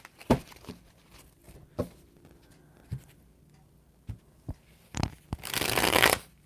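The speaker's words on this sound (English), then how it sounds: "these cards are hard to shuffle" A stiff, hard-to-shuffle tarot deck is handled with scattered soft taps and slides, ending in a loud, close, dense riffle as the cards are shuffled. No one speaks.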